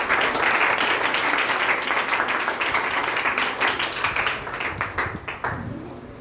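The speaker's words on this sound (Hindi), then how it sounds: "जोरदार तालियां हो जाए।" A crowd at a school ceremony honouring high school board exam rank achievers breaks into loud, dense applause. Many hands clap at once, and the sound thins into scattered claps as it fades toward the end.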